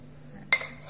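A single close clatter of dishes, pots and cutlery during dishwashing in a home kitchen, one sharp clink standing out over a low steady hum.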